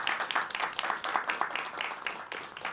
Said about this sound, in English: So could we get one last round of applause first?